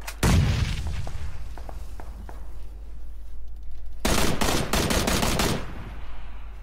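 Bursts of PUBG gunfire in first-person play: an early loud volley with scattered single shots, then a dense rapid burst of automatic fire near the end, sharp and close.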